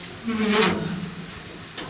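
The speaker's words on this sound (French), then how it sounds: "Donc recharger de l'eau, on ouvre un robinet," A water tap opened on a steam engine lets out a short burst of steam hiss, loud for a moment and then fading. A second, briefer hiss follows near the end.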